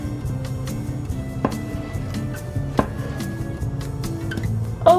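A knife, dull rather than sharp, chops tomatoes on a cutting board for Pokémon-themed food. A few sharp, scattered taps of the blade sound over steady background music.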